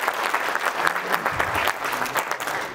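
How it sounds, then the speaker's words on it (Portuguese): Brief burst of audience applause at an intercultural awards ceremony in Porto, lively and close with distinct individual claps and a faint voice underneath. "Uma salva de palmas"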